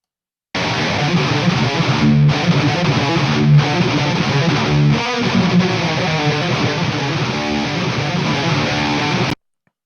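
Thick heavy metal guitars distorted with a Decapitator plugin play loud and dense with drums, running continuously before a short dropout near the end.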